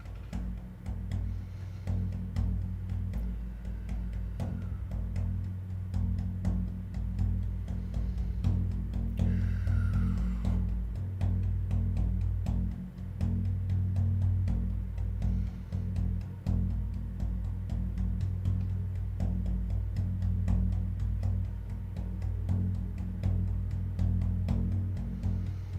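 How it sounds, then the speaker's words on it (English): A hand drum is played steadily during a spiritual council gathering, making a dense, continuous stream of low, booming beats that stays fairly loud throughout with no talking. "I'm going to be drumming for a few minutes"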